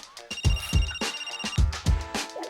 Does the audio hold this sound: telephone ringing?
yes